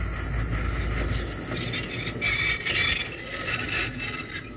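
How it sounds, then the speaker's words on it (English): A steam-era train grinds toward a halt, with clanking metal, ratcheting mechanical noise and squealing brake tones that rise and fall over a low rumble. "He's got the train stopped, Jingles."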